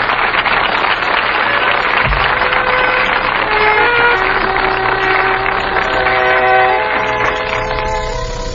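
A loud, continuous train rumble sound effect with clattering wheels and sustained horn-like tones rising near the end, with no voices.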